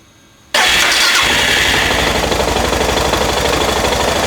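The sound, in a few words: Suzuki DR650 motorcycle engine starting and idling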